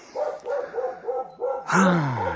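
Several dogs bark repeatedly in short, evenly spaced yelps, moderately close, ending in a louder, more drawn-out bark or whine near the end; no talk over them.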